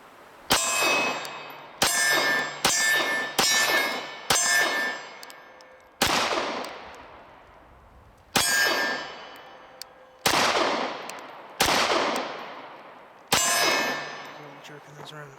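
Walther Creed 9mm pistol fired single-handed offhand at steel targets: about ten sharp shots, each followed by a ringing metallic clang, spaced roughly one to two seconds apart, loud and close with no talking.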